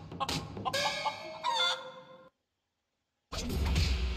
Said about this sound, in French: On va se battre contre un poulet?